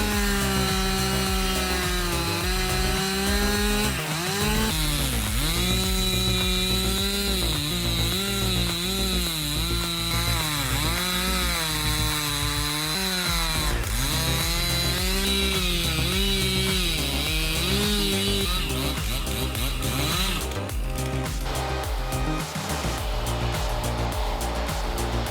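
A big chainsaw cuts through a large tree trunk, its engine a loud, continuous drone that dips and rises in pitch as the chain bites into the wood and eases off.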